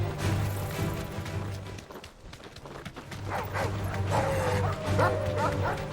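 A large creature in the video game Final Fantasy 16 barks and yelps repeatedly, with whining cries toward the end, over a sad musical score with a low droning note and brief rustling.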